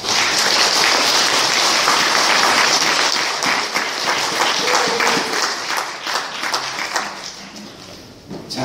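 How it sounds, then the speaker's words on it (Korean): A Catholic congregation at Sunday Mass gives loud, sustained applause for a couple, a thick roar of many hands clapping that gradually thins toward the end over almost nine seconds. "자매님께도 박수 부탁드립니다"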